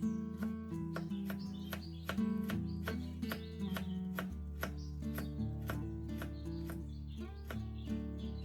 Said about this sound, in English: cut it into thin strips or slices similar to the cucumber